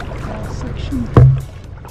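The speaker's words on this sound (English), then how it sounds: "might be a little scraping here." A canoe on the shallow Mississippi River scrapes briefly over the bottom with a short, loud grinding thud, set against a quiet background of water and paddling.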